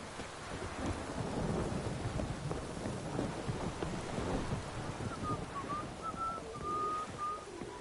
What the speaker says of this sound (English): No use doing any work in this rain.